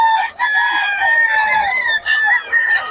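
Chickens and roosters on a farm, loud and close, with a rooster's long crow ringing out over steady clucking from the flock.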